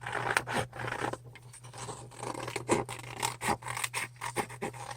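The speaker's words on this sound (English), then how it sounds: "just grab your scissors and fussy cut out the picture you want on the front" Scissors snip and rasp through paper, cutting out a picture, in a run of short, uneven cuts, close by and moderately loud with no voices.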